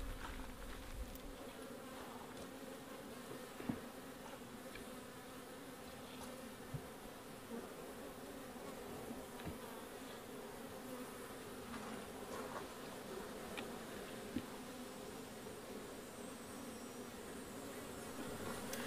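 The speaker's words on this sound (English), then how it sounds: "I'll need to shake a few thousand more bees into the box." Honey bees buzz inside a nuc box, a faint, steady, close-up hum of many insects continuing without pause, with a few small knocks.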